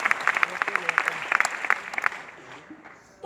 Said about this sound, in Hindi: मैं चाहती हूँ इन लोग के लिए भी सर के लिए जोरदार ताली होना चाहिए